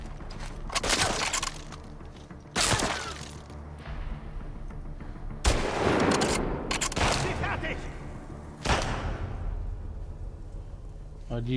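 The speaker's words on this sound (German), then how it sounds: "Die Waffe scheppert richtig." Gunfire from a weapon in The Last of Us Part II, loud sharp shots at roughly 0.5, 2.6, 5.5 and 8.7 seconds, each followed by a booming tail, with someone talking throughout between the blasts.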